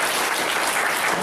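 A church congregation applauds in a brief, dense wash of clapping, loud and uniform from start to finish.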